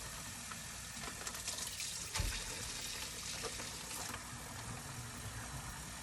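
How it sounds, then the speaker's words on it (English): Tap water runs steadily from a faucet through a bag of aquarium substrate for a new pea puffer tank, a continuous soft splashing and trickling with no talk. "take your faucet and just run water through it"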